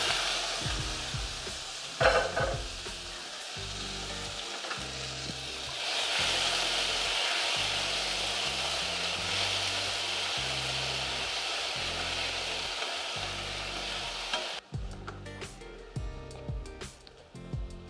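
Lo mein ingredients drop into smoking hot oil in a wok, setting off a loud, steady sizzle with the clatter of stirring that runs unbroken, then abruptly drops to quieter crackling and scraping near the end.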